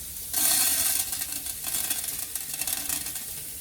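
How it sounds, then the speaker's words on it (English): A tablespoon of coriander seeds hits a hot pot to toast for a pork bone broth, setting off a sudden loud hiss that settles into a steady sizzle with faint stirring scrapes. "And then I'm gonna add about a tablespoon of the coriander seed."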